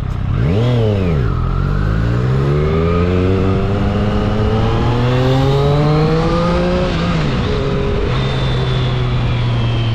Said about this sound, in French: là je fais un petit tour avec la moto